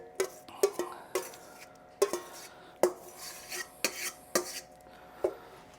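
Spoon scooping chicken pot pie filling into a pie crust in a pan, a series of close metallic clinks and scrapes in an irregular rhythm, wet dollops between them.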